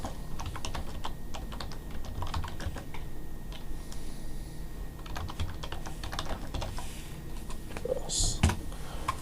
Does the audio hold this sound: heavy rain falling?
no